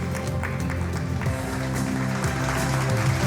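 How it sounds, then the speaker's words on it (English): An audience at a banking technology conference and awards ceremony applauds the winners. The clapping is fairly loud and continuous, with tonal music playing underneath. "Can we have a round of applause, please?"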